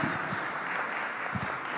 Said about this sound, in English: Let's give it a warm round of applause for allowing us to be in her house.